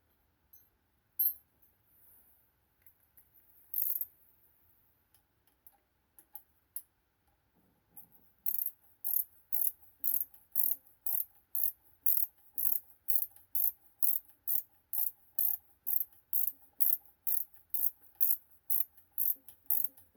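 A ratchet clicks rapidly and evenly, close by, tightening rear axle bolts on a 1935 Ford sprint car, after a few isolated metallic clicks earlier in a quiet garage.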